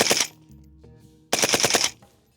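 Colt LMG machine gun firing with its gas turned down for a slower rate of fire, two loud close bursts of rapid rhythmic shots separated by a short pause with ringing echo.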